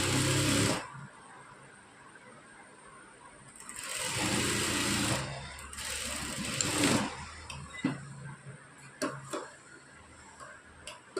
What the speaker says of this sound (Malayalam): ഇതുപോലെ ഒപ്പത്തിനൊപ്പം വെച്ച് കൊടുത്തതിന് ശേഷം സ്റ്റിച്ച് ചെയ്തെടുക്കുക